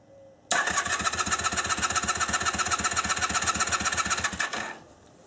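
A motorcycle engine is cranked over during a stator charging test, a loud, close, evenly pulsing churn that runs for about four seconds before winding down and stopping.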